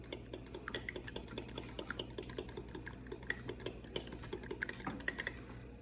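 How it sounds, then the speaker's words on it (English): A fork whisks a raw egg in a bowl, beating the yolk and white together for muffin batter: quick, steady metallic clicks and taps against the bowl, close and fairly loud, with no talking. "whisk it up with a fork"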